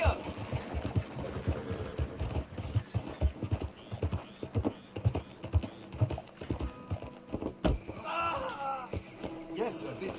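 Horse hooves pounding at a gallop in Red Dead Redemption 2, a quick steady clip-clop close by, with a man urging the horse on and a brief whinny near the end.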